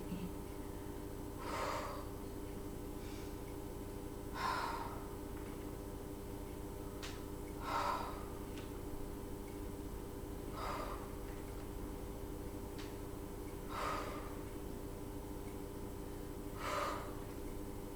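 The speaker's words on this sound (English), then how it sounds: "Breathe out, breathe in." Steady breathing during a Pilates hundreds exercise on a floor mat, soft rhythmic breaths about every three seconds over a constant low hum, moderately close and fairly quiet.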